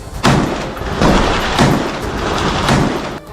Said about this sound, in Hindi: खिड़की पर बंदूक ताने खड़े इस सैनिक ने कई राउंड फायरिंग की